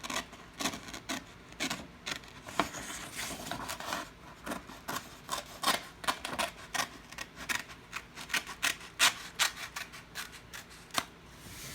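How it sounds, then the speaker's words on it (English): Scissors cut construction paper for a paper craft light saber, a close, quiet run of crisp snipping and rustling strokes in an uneven rhythm that continues for about twelve seconds. "First, you need to cut out the paper."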